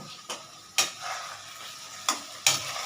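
Onions and potatoes frying in a pan for Bengali red chicken curry, a soft steady sizzle with a few sharp stirring scrapes and clinks of a utensil against the pot.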